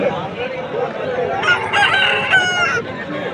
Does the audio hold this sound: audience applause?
no